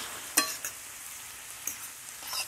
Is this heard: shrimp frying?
yes